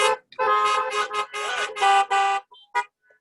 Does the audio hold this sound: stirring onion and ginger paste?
no